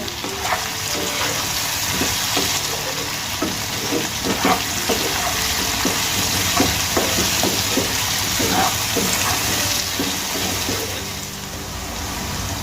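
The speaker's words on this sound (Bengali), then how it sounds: "এবার খুব ভালো করে আলুগুলোকে ভেজে নেব।" Potatoes fry in hot oil in a pan for a Bengali-style chuna fish dish, a steady close sizzle with occasional stirring scrapes and pops.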